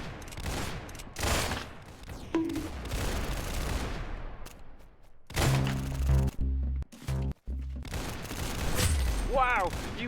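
Bursts of video game gunfire crack out in rapid volleys and single booming shots, loud and close, mixed with game sound effects and some voices.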